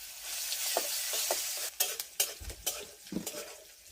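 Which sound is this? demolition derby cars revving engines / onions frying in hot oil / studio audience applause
onions frying in hot oil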